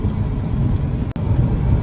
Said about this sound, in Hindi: यहाँ पे इतनी तेज बारिश हो रही है